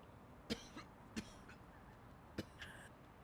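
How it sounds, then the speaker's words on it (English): A person coughs quietly several times in short, separate bursts, faint and close, against a low background hiss. "When are you going to get that cough checked out?"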